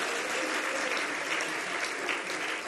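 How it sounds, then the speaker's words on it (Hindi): An audience at a Jain religious discourse claps together in sustained, even applause, a dense wash of hands that stays loud from start to finish. "तालियां तो बजा रहे हो,"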